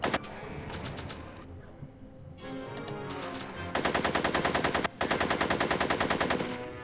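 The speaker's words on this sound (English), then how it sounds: "Are you shooting at me?" Automatic gunfire in the Back to the Future video game comes as rapid, loud machine-gun bursts, with two long sustained volleys in the second half split by a brief gap.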